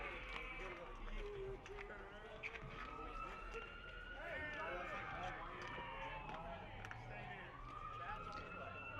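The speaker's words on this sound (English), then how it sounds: "Quite a few sirens going off today" Wailing sirens rise and fall in the distance, layered over steady crowd murmur and outdoor ambience at a high school varsity baseball game, with play-by-play talk running underneath.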